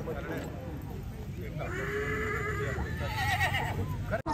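A mare at a horse beauty contest in Pakistan whinnies in a long, wavering neigh that rises over a noisy crowd murmur, with people talking nearby.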